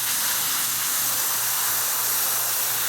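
A steady, continuous hiss of beige spray paint on a scale model of a Brummbär tank, constant and fairly close throughout, with no breaks or other sounds.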